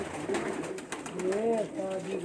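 Pigeons cooing on a rooftop loft, soft low throaty coos rising and falling, faint and somewhat distant over a light background hum.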